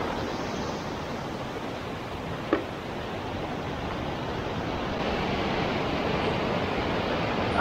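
Ocean waves wash steadily over a rocky fishing spot, a loud, continuous broadband roar of surf and spray that holds without pause, with one brief knock partway through.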